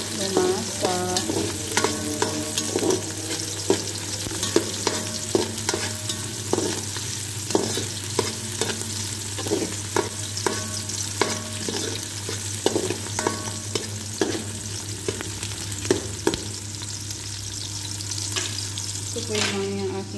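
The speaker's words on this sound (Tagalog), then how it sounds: "Hintayin muna natin mag-brown yung sibuyas" Onions for pansit canton frying in a pan until brown, with a steady loud sizzle and frequent scraping, clinking stirs of a utensil throughout, no talking.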